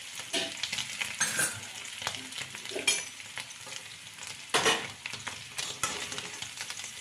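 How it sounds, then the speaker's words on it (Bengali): Potatoes sizzle as they fry in hot oil for a vegetarian potato curry made without garlic or onion, a steady close crackle with louder bursts of spattering and stirring, and no one talking. "এই দেখো কথা বলতে আমার আলুগুলো মোটামুটি ভাজা হয়ে গেছে"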